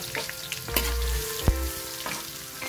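Ginger (luya) hits a pan of frying garlic, a loud close sizzle with a low thump as it drops in, then steady crackling hiss with a few brief clinks, no voices.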